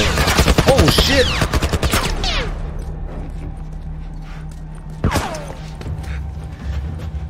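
Enemies open fire in The Last of Us video game: a dense burst of rapid gunshots in the opening two seconds, then a single loud shot near the five-second mark over a low rumbling game ambience.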